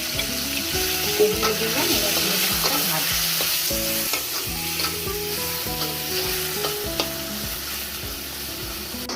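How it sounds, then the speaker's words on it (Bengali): Bombay duck fish, coated in turmeric, fries in hot oil in a kadai, with a loud steady sizzle throughout and repeated scraping and clinking of a spatula stirring against the metal. A voice speaks briefly. "এই লোটে মাছটা এবারে কড়াতে দিয়ে দেবো"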